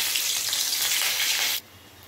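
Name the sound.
green chillies and nigella seeds frying in hot oil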